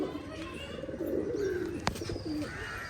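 Pigeons coo near a coop in low, rolling repeated calls, with a few brief chirps and a sharp click.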